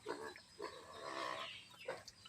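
A pig being given grain feed makes a few faint, short grunts and snuffling noises spaced about half a second apart, quiet and close.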